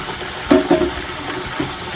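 Maddur vada dough dropped into hot oil on a medium stove, a continuous close sizzle and bubbling with a few louder splashy bursts as pieces go in.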